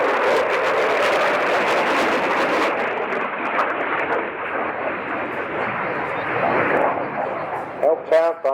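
Canard-equipped jet fighter performing at a seaside air show, its broad engine roar loud and steady before easing slightly, with a commentator talking over it throughout.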